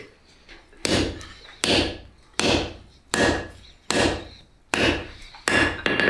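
Seven heavy hammer blows on hot metal at an anvil, forging a knife blade, land at an even, unhurried pace, each a sharp metallic clang with a brief ring, close and loud, with quiet gaps between.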